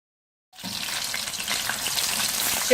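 Chicken pieces hitting hot oil in a pan set off a sudden, steady sizzle that runs loud and continuous from start to finish with no talking.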